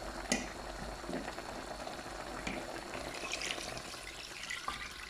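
Liquid pouring and bubbling into a cooking pot of romazava made with chicken, a faint, soft trickle and simmer with small splashes and clinks, no talking.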